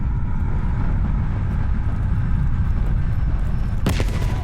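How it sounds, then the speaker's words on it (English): Gunfire and explosions rumble loudly and steadily through a Call of Duty: Black Ops Cold War battle scene, a dense low roar of distant combat with a sharp, louder burst near the end. "you followed the road right toward the sound of gunfire"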